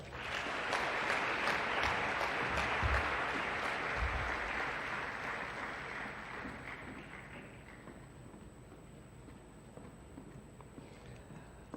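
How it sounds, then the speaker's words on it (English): A graduation convocation audience applauds in a large hall, a dense broadband wash of many hands that starts loud and slowly thins and fades over about twelve seconds, with no voices over it. "Everyone deserves that thundering applause."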